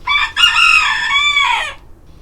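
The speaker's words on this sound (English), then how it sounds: "Gee, that rooster's loud." A rooster crows loudly and close by, one long harmonic call with a brief break near the start, trailing off into quiet.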